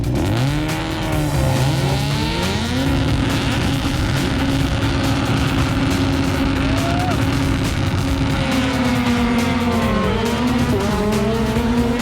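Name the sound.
600-horsepower rallycross race cars launching together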